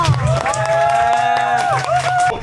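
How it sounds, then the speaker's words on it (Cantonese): A crowd at a Sydney singing competition applauds and cheers loudly and steadily, with sustained tonal sound and voices mixed into the clapping. "再一次俾掌聲，各位！"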